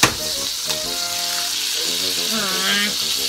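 Eggs sizzle steadily in a hot pan while a person talks over the hiss.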